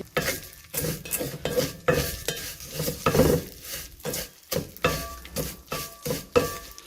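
Vermicelli cooking in a pan with sugar for kunafa, stirred in a steady rhythm of close scraping strokes against the metal pan over a light sizzle, no talk.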